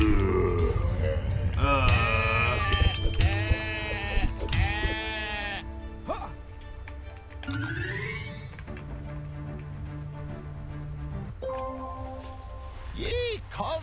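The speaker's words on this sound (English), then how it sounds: "Kill all the sheep." Several sheep bleat in a video game, wavering cries coming in bursts over a mix of game sounds and talk.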